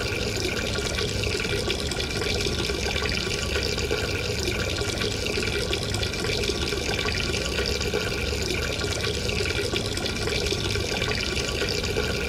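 Steady running water in the video game Duke Nukem Forever, a constant, full splashing rush that holds at an even level throughout without pauses or voices.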